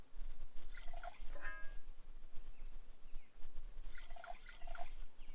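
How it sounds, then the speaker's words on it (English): Water pours into bottles in the survival game NEO Scavenger, heard as two short bursts of splashing and dripping separated by a quieter gap, over a low steady hum. "There's those bottles getting filled up."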